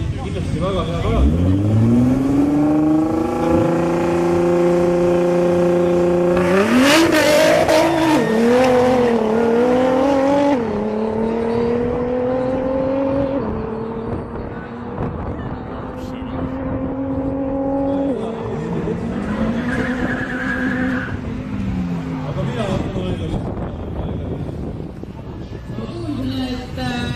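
An Audi R8 with a 5.2-litre V10 and a Nissan GT-R drag race. Loud engines rev hard and rise through gear changes for a long stretch, with a tyre squeal along the way. A commentator talks over the roar.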